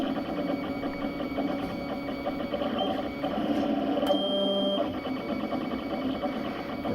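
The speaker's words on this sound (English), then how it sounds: "I have the camera mounted on the printer" A 3D printer fitted with six extruders prints a Benchy boat, giving a steady mechanical whir with faint stepper whine and a brief higher tone midway, continuous and close, with no talking.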